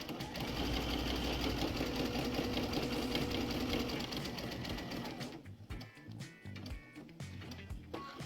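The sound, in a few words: sewing machine stitching quilt-as-you-go border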